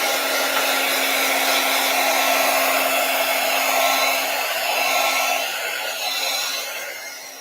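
A hair dryer blows steadily to dry gesso on a journal cover, a loud, continuous close-up whir with a constant hum that eases off slightly near the end, with no talking.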